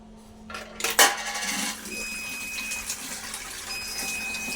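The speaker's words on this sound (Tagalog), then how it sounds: "hulugan natin ng piso na luma sa kabago. So pagka inulugan to, saka lalabas yung tubig dyan sa gripo niya" A one-peso coin drops with a sharp metallic clink into a coin-operated water vending machine, and water then pours steadily from its tap, with a faint electronic tone running alongside.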